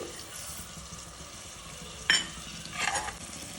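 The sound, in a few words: ginger and coriander frying for mushroom sambar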